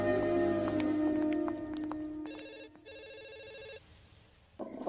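A telephone rings in a Telugu comedy film scene, its bell bursting out in two repeated electronic ring bursts over a busy background of music and room tone.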